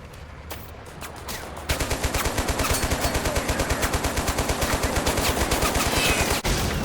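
Rapid automatic gunfire from a vehicle-mounted gun in the video game Total Conflict: Resistance rattles in a steady, continuous burst, loud and close, after a few scattered shots.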